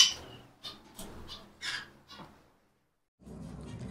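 Pet birds squawk as they are given grit in clay bowls: a run of sharp, bright cries comes in quick succession for about two seconds, then a silence, then a low background rumble.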